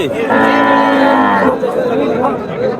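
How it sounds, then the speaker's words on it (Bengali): A cow with her calf at a busy rural cattle market in Naogaon, Bangladesh, gives one loud, drawn-out moo lasting over a second, with crowd chatter and voices in the background. "এই পাশে একটি গাভি বাছুর"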